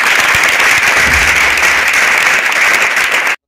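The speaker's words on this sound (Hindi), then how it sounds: "तो शुभम के लिए एक बार जोरदार ताली।" Loud, dense applause from an audience at a coaching institute's ceremony honouring a student who passed his matriculation exams, continuous clapping that cuts off abruptly.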